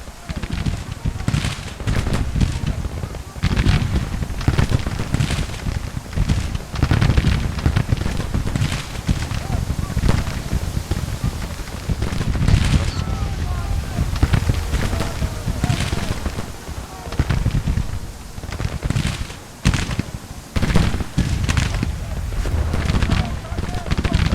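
Infantry rifle fire rattles in uneven bursts during a Grand Tactician Civil War engagement, scattered shots and rolling volleys at moderate loudness beneath a voice giving orders.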